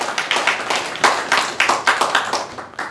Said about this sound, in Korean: 박수요 박수.